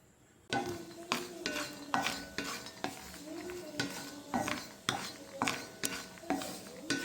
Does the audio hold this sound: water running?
no